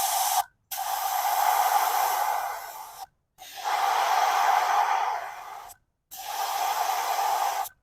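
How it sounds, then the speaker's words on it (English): Air hisses from a car tire's pressure release valve in three steady bursts of about two to three seconds each, separated by short silent gaps, close and fairly loud with no talking. "I'm just pressing my release valve here until I get back down to 35 PSI"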